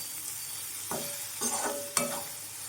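A spatula scrapes and stirs a ridge gourd and egg stir-fry in a pan, three short soft scraping strokes over a faint sizzle, close and quiet with no talking.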